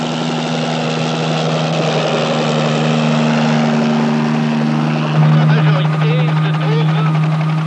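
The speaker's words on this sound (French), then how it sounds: "Cousteau s'envole en hélicoptère pour voir s'il est possible de continuer de faire route" Helicopter flying over the Antarctic sea, a steady loud rotor and engine drone with strong low humming tones, constant throughout with a slight swell near the end.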